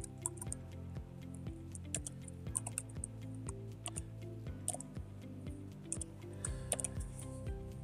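Rapid, uneven computer keyboard tapping with clustered clicks over a steady low musical hum, fairly quiet and close.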